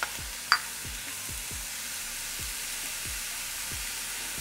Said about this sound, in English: what I'm going to do here is just kind of toss these around, get them coated in a little bit of the oil